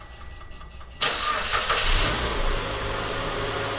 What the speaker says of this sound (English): We're going to trigger remote start.